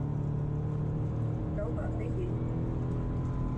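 A Subaru that had been lacking power, now repaired and out on a test drive: a steady, even drone of engine and road noise from inside the moving car, with no distinct shifts or peaks.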